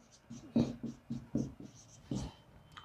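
Pen or marker writing out an answer during a physics lecture on resistance, a run of soft, close scratching strokes in short irregular bursts, with no talking over them.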